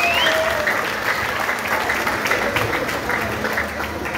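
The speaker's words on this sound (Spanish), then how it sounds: "Fuerte el aplauso para él." An audience applauds at a town dance festival in Olintla, a dense burst of clapping that carries through the whole moment and eases slightly toward the end.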